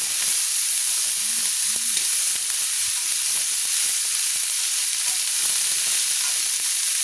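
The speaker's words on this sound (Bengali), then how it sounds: "দিয়ে আমি বাঁধাকপি দিয়ে দিলাম, দিয়ে মশলার সঙ্গে আমি নেড়ে নিচ্ছি। দেখুন আমি সুন্দর করে নেড়ে নিচ্ছি।" Cabbage being stirred with fried spices in a pan for a niramish bandhakopi ghonto: a loud, continuous sizzle and hiss with soft scraping under it and no voices.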